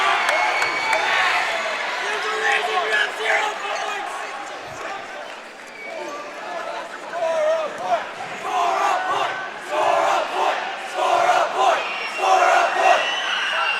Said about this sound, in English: Liberty North student section actually cheering score a point.